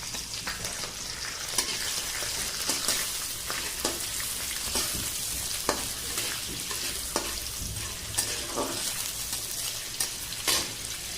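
Chopped onion frying with cumin and curry leaves in hot oil, a continuous close sizzle broken by repeated scraping strokes of a spoon stirring the pan, with no voices.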